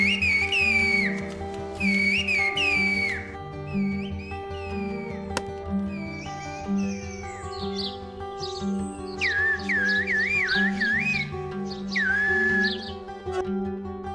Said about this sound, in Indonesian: bahasa burung atau bahasa bersiul adalah metode komunikasi yang menggunakan siulan untuk mengartikulasi kata-kata